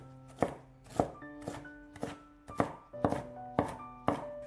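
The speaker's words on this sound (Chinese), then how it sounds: "接下来准备半个青椒，先切成细丝， 再改刀切成小丁" A knife dices half a green bell pepper on a cutting board, eight or nine evenly spaced crisp chops, close and clear with a quiet background.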